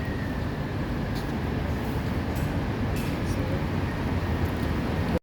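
A steady low rumble and rattling hum inside a moving MRT metro train in Taiwan, continuous throughout with faint clicks, then cutting off abruptly.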